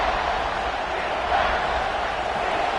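A packed stadium crowd roars steadily at a Georgia vs Texas A&M college football game, a dense, continuous wall of noise swelling slightly midway with no clear break.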